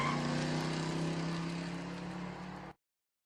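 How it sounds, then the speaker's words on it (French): A patrol car engine in a Resident Evil audio drama roars steadily with a low, humming drone as it pulls away abruptly, then cuts off into silence. "Le véhicule s'éloigne brusquement de son emplacement."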